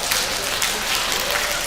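An audience in a seminar hall clapping, a dense continuous wash of many hands at steady loudness, with a voice faintly mixed in.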